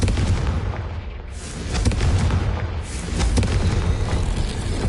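Confringo fire spell blasts in Hogwarts Legacy, loud booming explosions that swell and decay in overlapping waves, with no talk over them.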